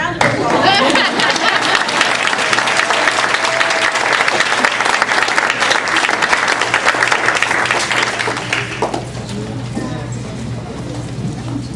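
Sustained, loud audience applause fills a school district board meeting room, honoring students, with steady clapping and crowd noise for about nine seconds before fading, and faint voices beneath.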